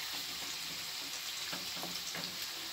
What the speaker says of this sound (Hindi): अब ये मेरा आलू हो रहा है फ्राई